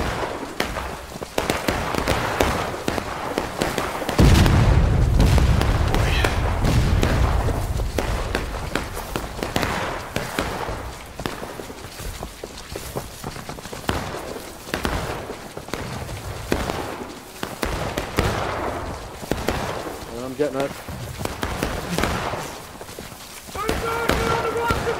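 Musket fire crackles in repeated sharp reports at a Civil War battle reenactment, some near and some farther off, with a heavy burst and rumble early on and people shouting and talking throughout.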